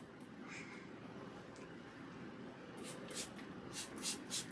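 Several short hissing spray bursts from a pump bottle onto natural hair, close by, clustered near the end over a low steady background hum.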